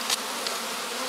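Honey bees buzz steadily around exposed soft comb during a colony cutout in hot Monument Valley, a close, continuous insect drone with no talking.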